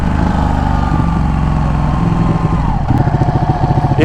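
An old VW trike's air-cooled engine drones and revs hard nearby while doing wheelies, a throbbing low rumble that surges and pulses more sharply toward the end.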